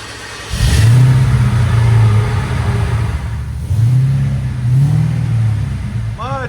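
A 1976 Pontiac Trans Am V8 with headers and Borla exhausts revs up loudly up close, its deep engine note swelling and falling through several throttle blips while a voice speaks briefly over it.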